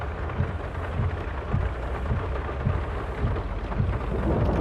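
Steady rain pours with low rumbling thunder on a farm in the video game Farming Simulator 22, a dense, constant wash of storm noise with no voices.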